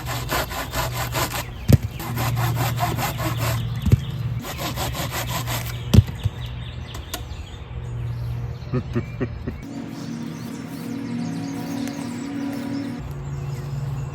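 A wooden branch is sawn off for a bow drill spindle, with rhythmic close rasping strokes and a few sharp snaps, then a quieter, different texture toward the end.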